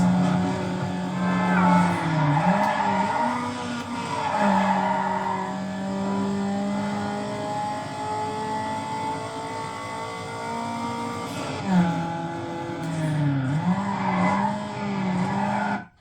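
Engine drone and shifting revs of a car in Need for Speed Underground, with repeated tire squeals and skids and a couple of sharp wall impacts around the middle and near the end, steady throughout.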